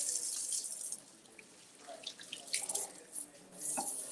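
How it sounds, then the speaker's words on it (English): Water running from a kitchen tap during handwashing, a steady hiss of flow that briefly drops, then splashes and gurgles as hands move under the stream, with no voices. "Let's clean hands."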